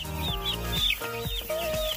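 Young chicks in a new barn bedded with rice hulls peep and cheep in quick high chirps, several birds calling over one another in a close, busy flock with no talking.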